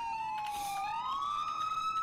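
A police siren wails from a car in a video game, a single steady tone sliding gently down and then up, loud and close with no talk over it.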